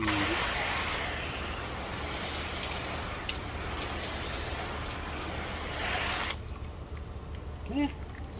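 Steady hissing water spray pours onto a car panel for several seconds, rinsing it, then cuts off abruptly, leaving quiet with a brief voice.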